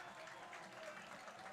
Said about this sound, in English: And they get a round of applause, a fantastic crowd here.